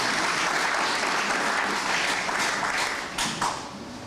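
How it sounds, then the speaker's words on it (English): A ceremony audience gives a sustained round of applause honouring a Botswana football administrator, a dense wash of many hands clapping at moderate distance, thinning slightly toward the end. "Another round of applause"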